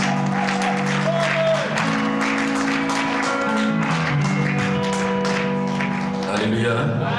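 A church congregation claps loudly and energetically during a worship service. Dense, continuous applause mixes with music and voices throughout.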